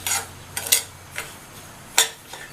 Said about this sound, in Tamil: 1 கப் ரவையை சேர்த்துட்டு நிதானமான தீயில கைவிடாமல் வாசனை வர வரையும் கருகிராமல் வறுத்துக்கணும்.